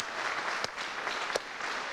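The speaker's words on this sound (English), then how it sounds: "A round of applause for Katie." Faint audience applause for a participant at a stage show, a soft, even wash of distant clapping with a couple of sharper hand claps standing out.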